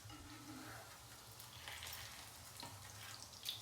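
Breadcrumbed crab cakes fry gently in a pan, a soft, steady sizzle that stays faint and close, with a light scrape or shake of the pan near the end.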